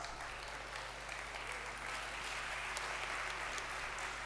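Audience applause at a talk on global and regional megatrends, a steady, even patter of many hands clapping throughout, fairly faint and distant over a low hum, with no voices on top.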